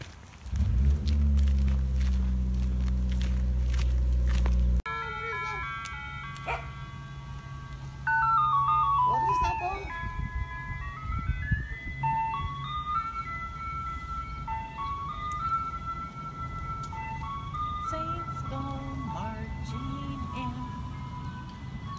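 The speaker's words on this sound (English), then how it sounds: "That was your first ice cream truck, which you didn't like very much." An ice cream truck's tinkling music-box jingle plays a repeating melody as it passes along a street in Missoula, rising loud then lingering over low traffic rumble, after a brief heavy rumbling opening.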